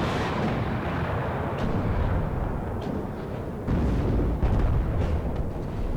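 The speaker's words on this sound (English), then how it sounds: "Look at all the ATGMs flying across the field." In the Warno wargame battle, ATGM missiles and artillery fire nonstop in a dense, loud roar of overlapping blasts and launches that swells louder partway through, with no voices.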